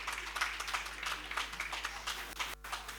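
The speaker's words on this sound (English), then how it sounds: "Please give him a warm round of applause." An audience at a university presidential investiture applauds steadily, a dense but soft wash of many hands clapping heard from a distance, continuous and even with one brief dip near the end.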